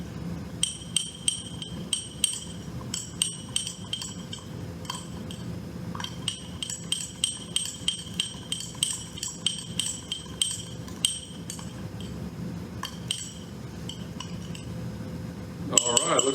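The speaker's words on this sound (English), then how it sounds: "take your fork and stir the mixture" A fork stirring peppermint mug cake mixture in a mug, rhythmic ceramic clinks and scrapes repeating steadily at close range, with a louder clatter right at the end.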